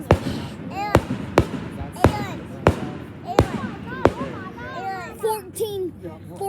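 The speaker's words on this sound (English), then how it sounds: "fireworks" Fireworks bursting at an outdoor display, with several sharp loud cracks spaced roughly half a second to a second apart, crowd chatter and children's voices running underneath and whistling tones near the end.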